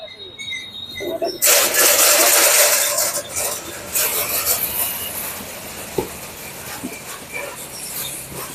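An onion sorting machine starts up with a loud, hissing, rattling whir that continues steadily, with a few sharp knocks and faint voices.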